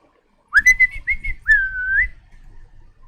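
A person whistles a short trilling reply, imitating an answering signal whistle: a few quick chirped notes followed by a longer sliding tone, close and clear in silence.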